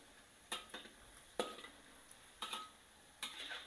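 Samcan pork belly coated in batter frying in oil over very low heat, stirred with a utensil in a pan: four distinct scraping clinks spaced about a second apart over a faint steady sizzle, close by, no talking.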